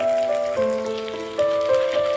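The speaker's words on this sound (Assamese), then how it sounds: "এয়া আদা, নহৰু, জলকীয়া আটাইখিনি মই ভাজি লৈ আছোঁ।" Ginger, garlic and green chili fry in hot oil for a pumpkin-leaf curry, giving a soft, steady sizzle that sits beneath louder sustained musical tones.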